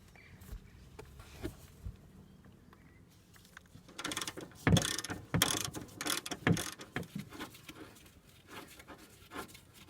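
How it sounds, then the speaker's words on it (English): Ratchet wrench with an 18mm socket loosening a nut on a Ford Focus MK2 front lower wishbone, heard as bursts of clicking and metallic rattling that start faint and grow louder midway, with no talk. "now it's time to grab a number 18 socket and undo this nut."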